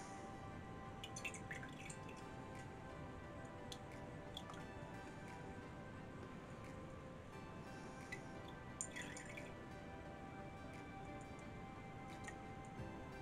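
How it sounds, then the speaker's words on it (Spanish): A candle is dipped in wax and then in water, giving faint, scattered drips and small ticks over a quiet background. "La sumergimos en cera y a continuación en agua"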